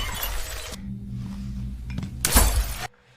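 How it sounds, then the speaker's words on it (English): A bat smashing liquor bottles: a loud crash of shattering glass opens, then a low hum, then a second bright burst of breaking glass and tinkling shards before sudden quiet. "takes out a bat and starts smashing liquor bottles"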